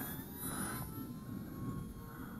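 An OMPHobby T720 four-channel RC powered glider with a brushless motor flies overhead, giving a steady, continuous motor whine with a faint high tone, moderately distant and alone.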